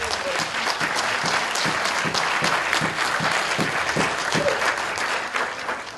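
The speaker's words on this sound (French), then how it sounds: "Acclame Jésus-Christ pour sa victoire." Congregation applauding at a Sunday church service in Villiers-le-Bel, loud sustained clapping from a crowd with a rhythmic beat running through it and a few voices mixed in.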